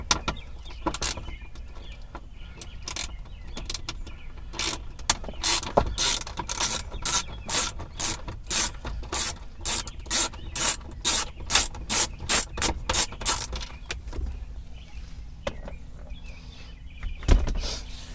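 7mm socket on a 1/4 inch drive ratchet working on a 1997 Ford Ranger, a run of quick, close clicking ratchet strokes in a steady rhythm, with short pauses before and after.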